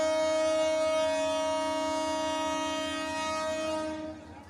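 A new Jamalpur Express train on the Jamalpur–Dhaka line sounds a loud, steady horn: one sustained, multi-toned blast held for about four seconds, then cut off abruptly.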